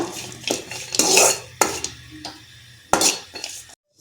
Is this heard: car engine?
no